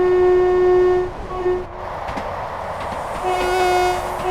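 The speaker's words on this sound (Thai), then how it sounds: "รถไฟวิ่งผ่านหมู่บ้านเลยอะ่ะ คิดดูด่วนพิเศษวิ่งผ่านหมู่บ้านอะ่ะ" An express diesel train in Train Sim World 4 sounds its horn as it runs through a village. A loud, sustained blast and a short toot come first, then rumbling running noise, and a second long horn call at the end.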